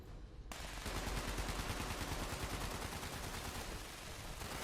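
Sustained automatic gunfire at feral ghouls in the Fallout 76 video game, a dense, continuous rattle of rapid shots that keeps up for several seconds, loud and close.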